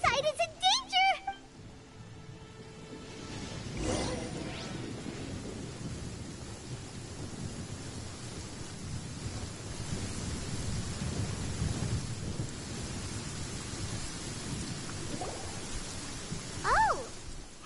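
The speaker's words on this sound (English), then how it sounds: "Paimon hears thunder!" Thunder rumbles in the video game Genshin Impact: a low, rolling, distant boom with rain-like hiss throughout, after a few brief chiming tones at the start.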